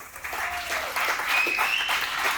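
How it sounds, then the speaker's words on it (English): A crowd at a North Valley Young Republicans state house forum applauds, many hands clapping steadily, with a few whoops and cheers rising over the clapping. "let's give them a round of applause, everybody"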